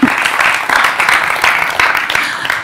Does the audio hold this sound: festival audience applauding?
yes